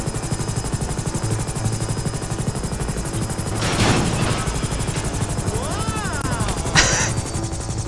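A helicopter in GTA V Online drones with a steady rotor chop under busy game noise, joined by brief crashes and effects partway through, at a moderate level.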